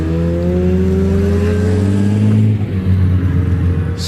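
Supercharged 1.6 Mini Cooper SR53 hillclimb car launching off the start line, its engine loud and close, revving up through the gears before pitch drops at a shift, no voices.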